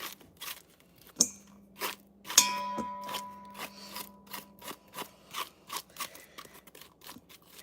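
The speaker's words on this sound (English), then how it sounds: "So we're going to scrape this into the bowl." Cooked squash flesh strings are scraped into a bowl in a series of close, rhythmic rasping strokes, with a couple of sharp clinks against the bowl.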